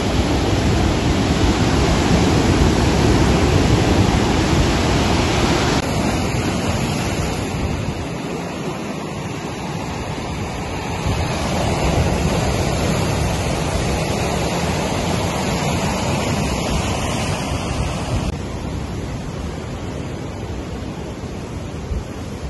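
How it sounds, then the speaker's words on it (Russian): Rough sea waves crash and wash onto the Odessa shore in a loud, continuous roar, swelling and easing with the surf, with wind buffeting the microphone and no voices. "Да, море сегодня разбушевалось, конечно."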